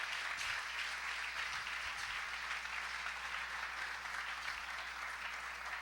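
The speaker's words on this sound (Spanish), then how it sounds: "Vamos a regalarle una ofrenda de palmas al Dios de la gloria." A church congregation applauds in a continuous, dense wash of clapping that stays steady and fairly distant, filling the whole stretch without any pause.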